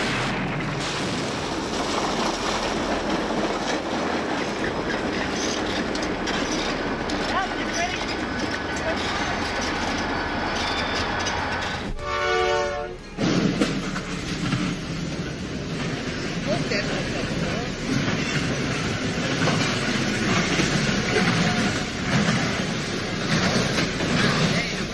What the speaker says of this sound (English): a controlled, staged collision between a train and a car, intended to demonstrate the dangers of rail crossings